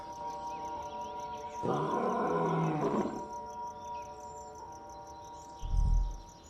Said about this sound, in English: But then, from the distance, a roar answers back.